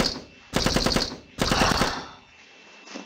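Automatic gunfire mowing down zombies in the video game Zombie Defence, heard as two loud, rapid bursts with a short gap between them, followed by a fading tail.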